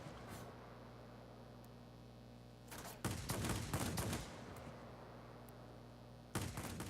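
Cannon and machine-gun bursts from a Ki-162 fighter in a flight combat game, two short rapid-fire volleys over a steady engine hum, loud against a quiet background.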